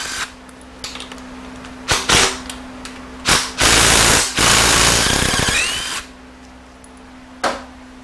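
Impact gun with a 15 mm socket spins out transmission extension housing bolts during a 68RFE rebuild, several sharp mechanical bursts of varying length, one long sustained run in the middle, close and loud with a steady hum between.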